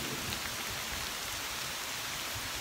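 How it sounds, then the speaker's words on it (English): Heavy rain pouring down during a thunderstorm, a dense, steady hiss of drops on surfaces that stays loud and unbroken throughout, with no voices. "It'll stop raining pretty soon."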